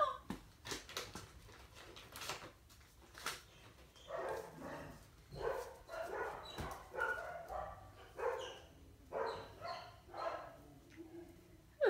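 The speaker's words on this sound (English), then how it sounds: "Who's that barking?" A young puppy, about five and a half weeks old, gives a string of soft, high yips and barks at irregular intervals indoors, fairly faint and close, with short quiet gaps between calls.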